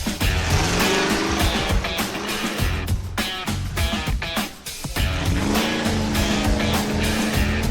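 A 1952 Ford Mainline gasser drag car accelerating hard from the starting line, its loud engine roaring and climbing in pitch through the gears, with a brief dip mid-run before the revs build again, continuous and close.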